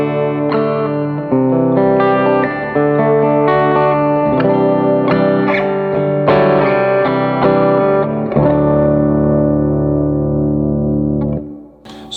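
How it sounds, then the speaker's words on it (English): Electric guitar played through a KSR Ceres three-channel preamp pedal into a Morgan amp, ringing out sustained chords and melodic lines with a slightly driven, effected tone, loud and continuous before fading at the end. "now we're plugged in the Morgan KSR into a Flint Reverb"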